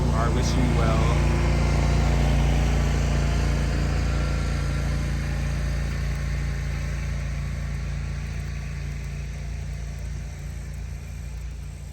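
A car drives by with a steady engine rumble that is loudest at the start and gradually fades into the distance, with a person talking over it.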